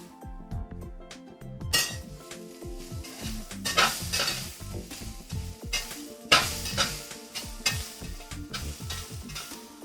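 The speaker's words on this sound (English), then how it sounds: "Let me give my onions and carrots a little bit of a stir." Onions and carrots stirred in a pan over high heat, with repeated scraping and clinking of utensil against pan over a gentle sizzle and no talking.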